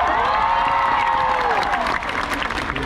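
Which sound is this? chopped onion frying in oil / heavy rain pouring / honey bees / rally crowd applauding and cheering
rally crowd applauding and cheering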